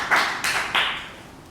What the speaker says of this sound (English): let's give a good round of applause to our Toastmaster